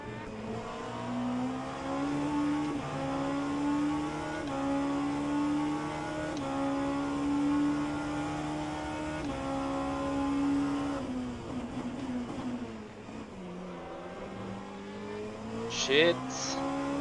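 Race cars in rFactor 2 running the Le Mans Virtual Series 8 Hours of Bahrain, engines droning steadily with rising and falling pitch as gears shift, a close car alongside, while a voice talks over the racing.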